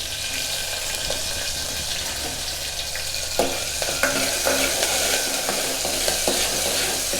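Green chillies frying in a pan for a green chilli and tomato chutney give a steady, loud sizzle, with scraping stir strokes breaking through now and then; no one talks.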